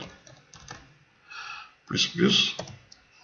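Keys clicking on a computer keyboard in a few quick keystrokes, close and fairly soft, mixed with a person speaking over them.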